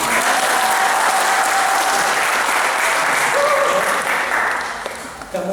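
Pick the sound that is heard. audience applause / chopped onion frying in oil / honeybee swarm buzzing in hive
audience applause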